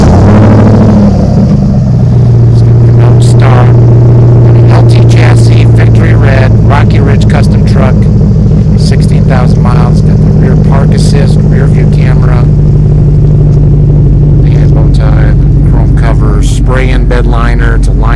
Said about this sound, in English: Custom exhaust on there, a little bit bigger than usual, but it's got a very nice rumble to it.